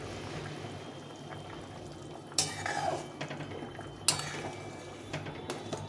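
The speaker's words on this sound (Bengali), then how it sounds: "এখন আমি এর মধ্যে মাছটা দিয়ে দেবো।" Small tangra fish slide into a simmering curry of potatoes and bitter gourd in a pot, making two sharp splashy bursts over a steady low bubbling, with brief clatter near the end.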